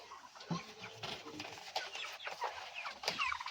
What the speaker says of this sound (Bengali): আর এদিকে আছে আমার সব অস্ট্রেলিয়া মুরগি